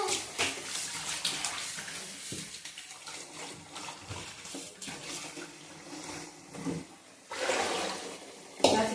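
Raw chicken is washed in a bucket of water, with continuous splashing, sloshing and running water close by, swelling louder near the end, and no talking.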